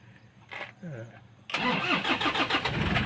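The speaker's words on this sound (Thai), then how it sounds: "เดี๋ยวติดเครื่องเลยนะครับ" A 2002 Toyota Tiger D4D pickup truck's diesel engine cranks and catches, then settles into a loud, close rumbling idle, with someone speaking briefly before it starts.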